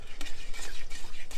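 A spoon stirs a boiling cinnamon nut mixture in a pan, close scraping and swishing strokes in quick succession with a faint bubbling sizzle underneath.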